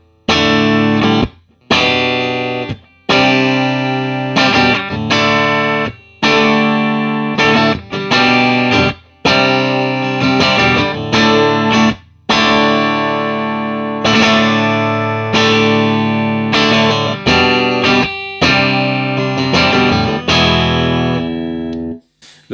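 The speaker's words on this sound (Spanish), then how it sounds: "La posición del puente, con un micro single coil y un brazo completamente de maple" Fender Stratocaster American Original 60s electric guitar on the bridge single-coil pickup with a maple neck, played clean and bright in strummed and picked phrases with short pauses between, close and loud with no talking.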